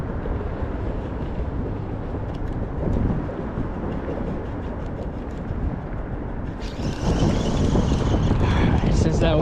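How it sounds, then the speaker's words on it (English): Wind buffets the microphone continuously beside a bridge during cold-weather bank fishing for bass, a loud broadband rush that strengthens near the end, with a voice talking faintly underneath. "Since that wind is blowing,"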